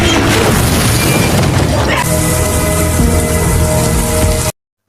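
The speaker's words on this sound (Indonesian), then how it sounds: "bom molotov rakitan Jennifer sebelumnya berhasil meledak dan membakar Adrian" A homemade Molotov cocktail bursts in a film scene, a loud crashing blast followed by dense crackling, roaring fire noise that stays strong before stopping abruptly.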